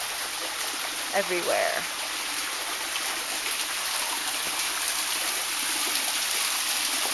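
Water flows steadily through a canyon stream as a constant rushing wash, with a brief voice near the start.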